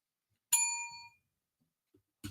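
A single bright bell ding rings out clearly and decays over about half a second in an otherwise quiet moment, followed by a faint tap and a short thud.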